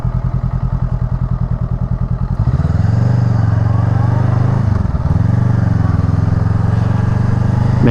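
A Honda Rebel 500 cruiser motorcycle engine idles with a lumpy, rhythmic thump, then revs up into a loud, steady roar that holds close by.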